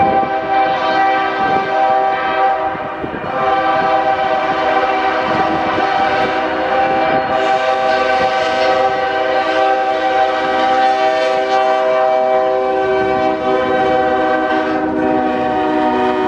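A freight train on the Union Pacific line led by a Norfolk Southern ACC locomotive rolls past with a long, loud, sustained multi-tone horn blast over steady rumbling wheels and rail clatter, no voices.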